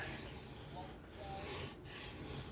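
Freehand sharpening of a drop point 9cr steel knife blade on a stone, a soft continuous rasping rub close by, with brief pauses between strokes and no talking.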